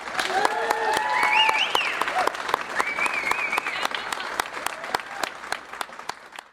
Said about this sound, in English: Please join me in a very loud round of applause